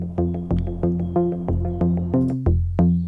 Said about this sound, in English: The third sequencer sound is from the Modular system and sounds like this.